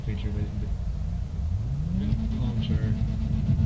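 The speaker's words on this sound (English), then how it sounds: "he's over here revving his car" A video game car engine in GTA V hums steadily and then revs up, its pitch climbing and falling, under a constant low rumble with faint talk.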